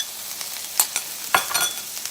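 Ginger sizzles in a little hot oil in a pan as it is stirred, a soft steady crackle broken by a few sharper scraping bursts, close and fairly quiet with no voices.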